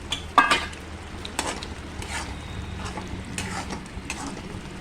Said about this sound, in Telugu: తర్వాత ఎగ్స్ వేసేస్తున్నాను.